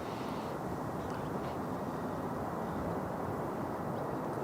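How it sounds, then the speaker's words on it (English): An EasyJet Airbus A320 lands in wind at Manchester Airport, producing a broad, steady low roar that stays constant and fairly distant, with wind rumble mixed in. "EasyJet 2118 from Paris Charles de Gaulle, A320 Classic"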